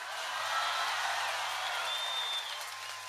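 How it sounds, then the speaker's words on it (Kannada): Audience at an outdoor public meeting in Sirsi protesting river linking, a dense sustained wash of clapping that fades slightly toward the end. "ದೊಡ್ಡ ಚಪ್ಪಾಳೆ ಹೊಡೀರಿ"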